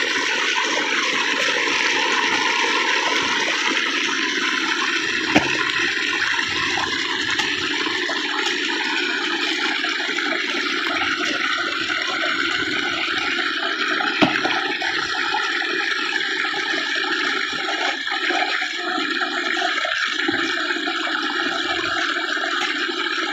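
Water runs steadily through buried irrigation pipes in a rice field, small and large pipes flowing, a continuous rushing gurgle at moderate level with occasional faint knocks, no speech.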